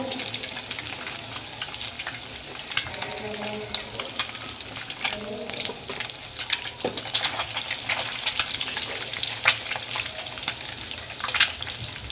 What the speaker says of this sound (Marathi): आपण एक नॉर्मल अंडे भाजतोय